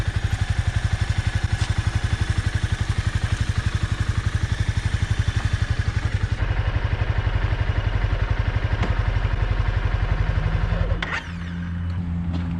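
Honda CBR300 motorcycle engine running close by with a rapid, even low thrum that steadies, then cuts to a different lower hum near the end, no talking.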